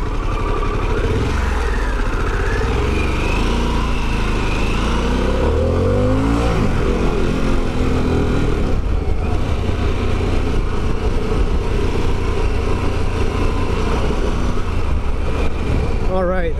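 A Harley-Davidson Pan America motorcycle engine drones steadily while riding, loud and continuous from close by, with wind rush and rising and falling revs across the clip.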